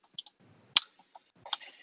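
Keys on a computer keyboard click in short, irregular bursts, crisp and near, with brief pauses between clusters of taps and no talk.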